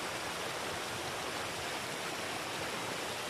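River water rushes steadily around a tree standing in the middle of the river, a continuous broadband wash with no pauses, close and even throughout.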